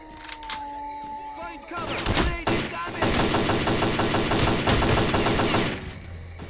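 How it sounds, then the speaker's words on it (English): Enemy gunfire in S.T.A.L.K.E.R.: Clear Sky: a few scattered shots, then sustained rapid automatic bursts that rattle on loudly for several seconds and fade out at the end. "Dude on the left is tearing me up, and he still didn't die from all those shots."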